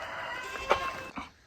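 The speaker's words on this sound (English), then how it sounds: "I've seen chickens take a dust bath, but this is taking it to a whole new level." A chicken makes a few brief, faint clucks outdoors on a property where cedars are being pulled up by the roots, with low background noise between them.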